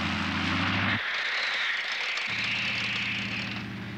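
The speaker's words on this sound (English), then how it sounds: "And here comes the airplane!" Cartoon airplane flying in an Inspector Gadget episode, a loud steady engine drone that sweeps and shifts in pitch throughout, with a deeper rumbling layer dropping out briefly in the middle.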